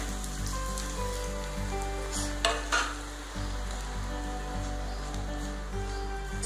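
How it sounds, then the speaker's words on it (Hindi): Semolina for upma is stirred in a hot frying pan, a soft continuous sizzle with scraping spatula strokes and a brief louder clatter midway, close and fairly quiet over a low steady hum. "मैं अब डाल देती हूँ इसमें सूजी।"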